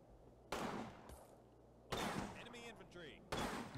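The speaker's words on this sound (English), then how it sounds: "now we're firing at him" Gunfire in a military video game, three loud broadband bursts of shots spaced about a second and a half apart, with a low engine-like hum underneath and brief chirping tones between the volleys.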